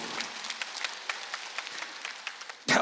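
Congregation at a church evangelism meeting claps in a steady rhythmic burst, moderately close, ending with a sudden loud noise.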